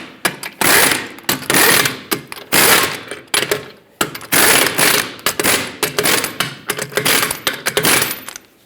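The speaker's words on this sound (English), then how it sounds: "in a cross pattern, we're going to torque them to 140 foot-pounds." Rear wheel lug nuts on a 2010-2017 Chevrolet Equinox are tightened to 140 foot-pounds in a cross pattern, heard as loud, close bursts of rapid mechanical ratcheting with short pauses between nuts.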